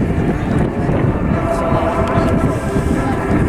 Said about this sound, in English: the engine you're listening to there, a Plymouth VK1 turbojet engine